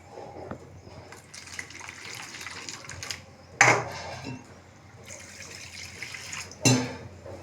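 Soaked urad and chana dal being rinsed in water for a village-style Maharashtrian dal, with a steady wet swishing and splashing and two louder sloshing bursts, close by with no talk.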